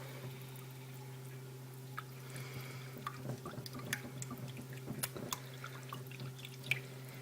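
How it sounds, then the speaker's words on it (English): A dairy-free sweetened condensed milk mixture is stirred, producing faint, irregular light clicks and wet taps over a steady low electrical hum. The taps grow busier after the first few seconds, with no talking. "So I'm going to stir this all together."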